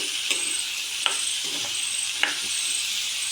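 Potato curry ingredients sauté in a pan with a steady close sizzle, punctuated by a few sharp clicks of a spoon stirring against the pan.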